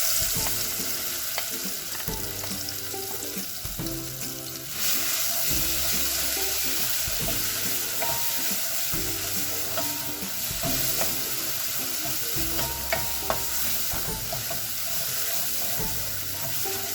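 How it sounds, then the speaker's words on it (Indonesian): Kale with coconut milk sizzles in a little oil in a pan for an Indonesian-style kale curry, a continuous frying hiss broken by scraping stir strokes and soft clinks, close and steady throughout. "Kita oseng-oseng sampai wangi ya."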